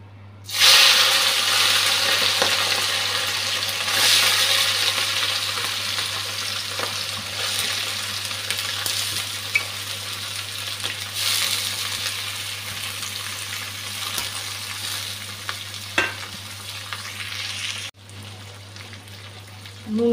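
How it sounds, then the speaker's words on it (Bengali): Marinated fish dropped into hot oil, setting off a loud, crackling sizzle that slowly settles into steady frying before a lid clatters near the end, with no talking. "গরম হয়ে গেছে, মেখে রাখা মাছটা দিয়ে দিচ্ছি।"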